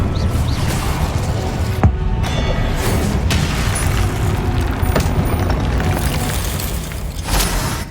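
Incendio fire spells are cast in Hogwarts Legacy, giving loud, dense bursts of roaring flame and sharp impacts over a continuous rumble of combat effects, with no talking.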